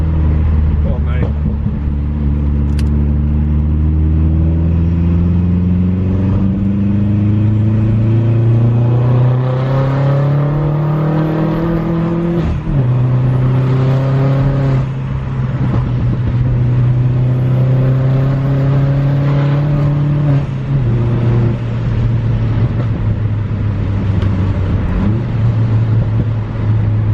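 A turbocharged car engine pulls hard under boost on wet roads, droning and rising in pitch with each shift, loud and close from inside the car, a voice talking over it.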